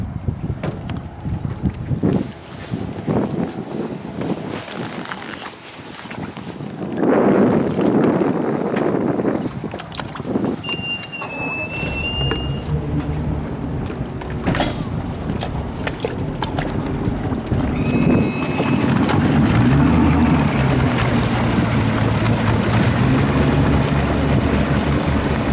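A 1998 Sea Ray 250 Sundancer with a Bravo 3 drive roars steadily under heavy wind buffeting, building to a sustained, loud drone as the hull runs fast on plane across the water.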